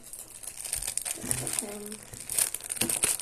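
Crinkly plastic packaging of transparent double-sided tape being peeled open, with close, irregular crackles and rustles in short bursts, while children talk nearby.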